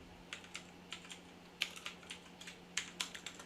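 Keys tapped on a computer keyboard while code is written, a quick irregular run of crisp clicks with small pauses between bursts, close and moderately quiet, with no voices.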